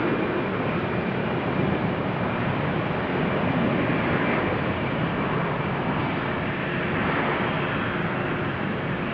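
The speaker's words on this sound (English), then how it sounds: "Meanwhile, Austrian just took off." An Austrian Airlines jet takes off at Amsterdam Schiphol, its engines making a steady, dense broadband roar that holds for the whole stretch with no voices over it.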